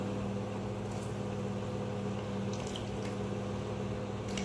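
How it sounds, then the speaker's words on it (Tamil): Gulab jamun dough balls frying in oil over a low flame, a steady, even bubbling hiss that stays constant throughout, with a faint hum underneath and no voices. "இதே மாதிரி எல்லா உருண்டையிலையும் போட்டு பொரிச்சு எடுத்துக்கலாம்."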